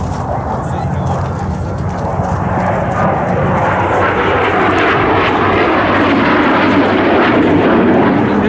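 A P-40 Warhawk fighter at the Wings over Houston airshow drones overhead, its engine roar building and swelling steadily as it passes, loud and continuous, with an announcer talking over it.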